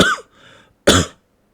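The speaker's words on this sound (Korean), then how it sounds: "말하는 것보다 기침 소리가 더 많은 것 같은데" Two sharp, loud coughs from a nearby person, separated by a short breathy pause, alone with no speech.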